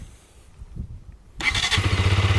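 A KTM 125 Duke 125cc motorcycle engine cranks and catches after a quiet moment, settling into a steady, muffled idle.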